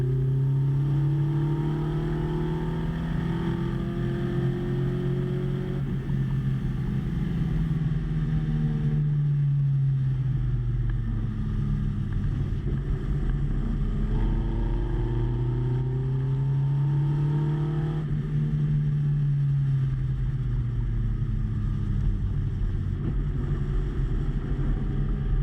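A GBS Zero British sports car laps a slippery, icy race track, its engine loud and close throughout, rising and falling in pitch as it accelerates, shifts and lifts through the corners and down the straight.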